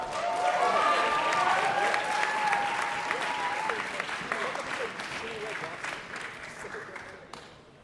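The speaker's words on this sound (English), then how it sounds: "let's give both teams an even bigger round of applause" An audience at a Sumobots robot-combat finals applauds both teams, a full round of clapping that swells early and gradually fades, with voices mixed in.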